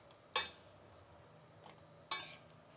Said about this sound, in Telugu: ఇప్పుడు మిక్సీ జార్ పెట్టేద్దాం.